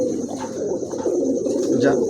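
A pair of pigeons coo softly and repeatedly at close range, their low throaty calls continuous through the short moment.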